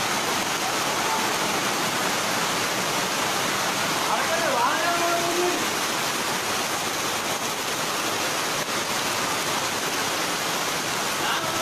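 Floodwater from heavy rain rushes into the Sri Varaha temple in Thiruvananthapuram, making a loud, steady roar like a waterfall throughout, with a faint voice briefly audible midway.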